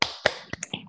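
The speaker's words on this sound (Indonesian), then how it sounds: "Tepuk banjir." Hands clapping in a classroom flood clap chant: four or five quick, close claps in a short uneven rhythm, each crisp and brief.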